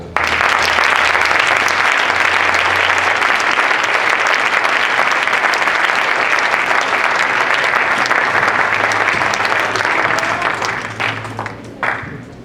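A church congregation claps loudly and continuously, acclaiming the Lord. The dense applause holds steady for about ten seconds, then thins out and fades with a few final claps.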